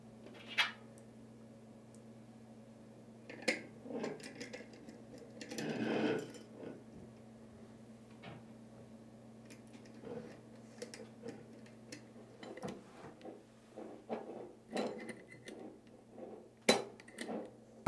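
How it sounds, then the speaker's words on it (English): Parts of a Kinetic Water Ram drain cleaner pump, including a leather cup, are fitted together by hand in a quiet room, producing scattered faint metallic clicks, taps and rattles. "Leather cup that's inside the kit. And assemble it like this."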